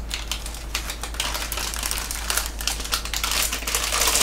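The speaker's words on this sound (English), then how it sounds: "Go ahead and get them out of their packaging. I'm gonna cut these at the side." Plastic packaging around hard drives being cut open at the side, giving a close, continuous crinkling and crackling with quick clicky snips throughout.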